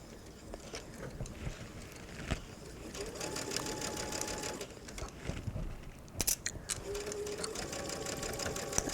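A sewing machine stitching a welt pocket runs in a steady close whir with brief pauses and restarts, punctuated by a couple of sharp clicks, moderately quiet, with no talking.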